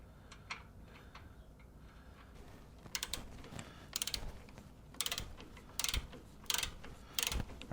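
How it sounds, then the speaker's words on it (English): A torque wrench clicks and ratchets in quick bursts while tightening the oil drain plug on a Harley-Davidson Heritage Softail, faint and close, with small mechanical ticks between the rhythmic ratcheting strokes. "we're going to torque this to 14 to 21 foot-pounds, or about 17"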